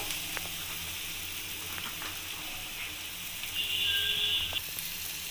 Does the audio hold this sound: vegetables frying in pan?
yes